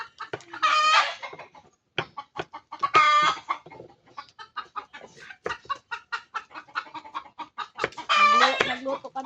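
Chickens cluck in quick, uneven bursts, with a few louder drawn-out squawks standing out over the pecking chatter nearby.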